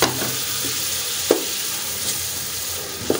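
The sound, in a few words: tomato paste added to frying chicken mince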